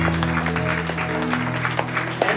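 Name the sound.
congregation applauding and cheering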